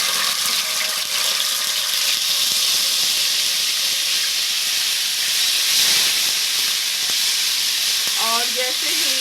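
Ginger garlic paste sizzles steadily in hot oil while cooking chicken with arvi, a loud continuous hiss with a brief clatter near the end.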